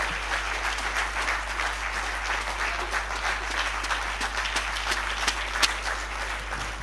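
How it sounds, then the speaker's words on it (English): Standing ovation at a policy conference on anticorruption in Nigeria: a large audience claps continuously in a thick, even roar, with a few crisp nearby claps poking out over a low steady hum. "Thank you for the standing ovation."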